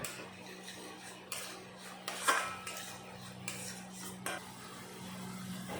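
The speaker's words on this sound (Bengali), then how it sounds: "এখন ভালো করে নেড়ে চেড়ে কষিয়ে নেব।" A spoon stirs and scrapes as spices fry in a pot for a fish curry with maan kochu, giving faint, scattered metallic clinks and scrapes over a low steady hum.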